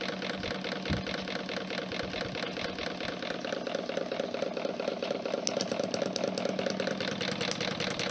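Newman motor with a 12-inch magnetic rotor running at 36 volts, a steady rapid mechanical whirring with a dense periodic clatter, loud and close throughout.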